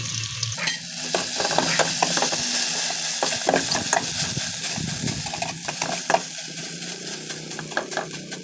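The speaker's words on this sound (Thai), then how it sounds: "เสร็จแล้วเราก็มาตักพริกแกงในโคกลงหม้อเลยนี่เขาก็จะเจียวพริกแกงก่อนนะเจ้า" Curry paste sizzles and fries in a pot for a Thai pork and mustard greens curry, with a steady loud crackle and scattered scrapes and clinks from stirring, close by with no talk.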